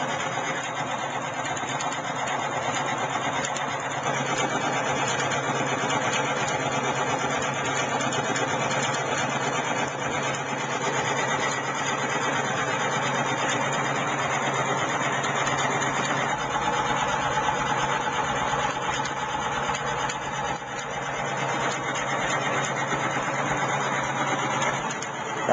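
A homemade fuelless motor with a high-voltage coil runs steadily and continuously, a dense buzzing mechanical hum with a constant whine that stays even and close throughout.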